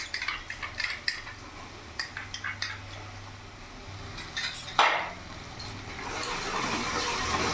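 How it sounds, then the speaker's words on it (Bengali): Ginger garlic chili paste stirred into fried golden onions in a pan, with clinking spoon-on-metal scrapes and taps, a brief louder hiss midway, then a steady low sizzle, nobody talking. "ভালো করে মিশিয়ে নেব।"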